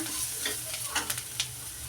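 Potato bonda filling with mashed potato and coriander leaves frying in a pan, a steady soft sizzle with a few brief scraping stirs.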